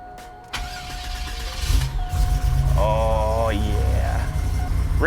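A modified 1987 Buick Grand National cranks with a short starter whir, then fires and settles into a loud, rumbling idle close by, with faint voices underneath.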